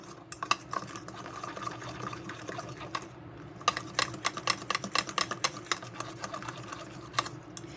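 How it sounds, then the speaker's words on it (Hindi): Donut batter being mixed in a bowl makes rapid, irregular clicking and scraping of a utensil against the bowl, with soft wet stirring underneath, close and fairly quiet, pausing briefly midway. "हम इसको अच्छी तरह से पहले मिक्स करके देखेंगे।"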